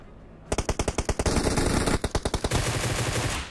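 Automatic gunfire in the video game PUBG Mobile rattles out in rapid bursts of evenly spaced shots, close and loud, with a brief pause before a second burst and a lingering echo tail.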